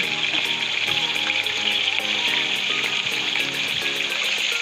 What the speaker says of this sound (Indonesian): kita menggoreng dulu bawang merah, bawang putih, cabai kita goreng dahulu sama terasi sekalian.